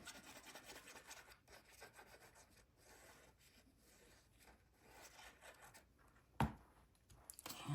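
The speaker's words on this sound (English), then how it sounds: "Line it up, burnish it." Repeated soft rubbing and rasping strokes as a glued paper pocket for an accordion file book is burnished down by hand, very close and quiet, with one sharper scrape near the end and no speech.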